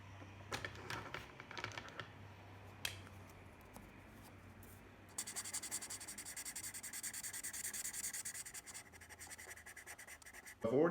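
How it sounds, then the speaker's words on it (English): Felt-tip pen scratching and rubbing across paper while colouring cut-out paper wings, faint close-up strokes in bursts that turn into steadier, busier scribbling in the second half. "I'm going to paint his wings too. Or actually, rather, I'm going to use felt tip."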